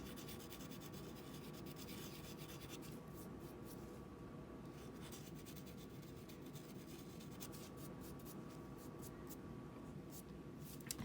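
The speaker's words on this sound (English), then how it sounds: "So give it a little bit of a buff here." A ball-jointed doll hand or foot part of resin is rubbed and buffed with a steady, soft scratchy friction, close and continuous, under a faint hum and occasional clicks.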